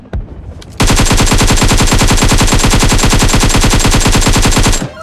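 A sustained burst of rapid automatic gunfire in the mobile game PUBG Mobile runs loud and unbroken for about four seconds, with evenly spaced shots and no pause.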